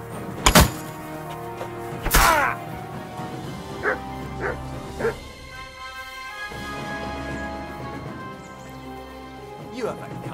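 Mutt, a dog in Kingdom Come Deliverance 2, barks in a few sharp loud bursts followed by smaller yips and whimpers, spaced out over several seconds, with game sounds and voices in the background.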